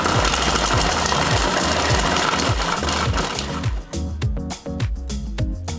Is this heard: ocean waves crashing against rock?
no